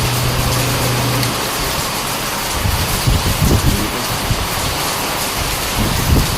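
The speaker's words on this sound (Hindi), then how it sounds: "बहुत तेज बारिश हो रही है।" Heavy, wind-driven rain pours down loudly and close in a dense, constant roar, with gusts and occasional thumps of water hitting surfaces, and no speech.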